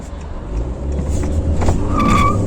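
A new Honda Accord petrol engine, 190 horsepower, hums steadily and builds toward a rising rev near the end, with a brief high whine over the low rumble.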